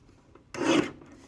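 A sheet of card being trimmed on a paper trimmer for card making, one short rasping slide of the blade lasting under a second, close and clear in a quiet room.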